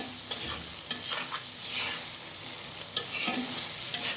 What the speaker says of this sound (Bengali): এখন আমি এখানে ঝোল দিয়ে দেবো ডাঁটাতে